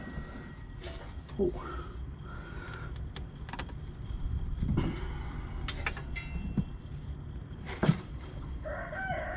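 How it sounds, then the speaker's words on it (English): A rooster crows a few times outdoors amid background chatter and farmyard noise, moderately close but not dominant. "Letting everybody know he's a rooster."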